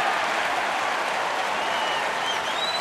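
A baseball crowd at a Giants–Brewers game in Milwaukee reacts to a call at first base, giving a steady, dense wash of applause and cheering across the whole moment.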